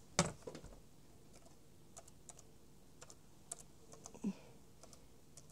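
Someone enters a Wi-Fi password on the keyboard of a 10-inch RCA Windows 10 notebook tablet. The key taps come as sparse, faint, irregular clicks against a quiet room, with one slightly louder knock near the start.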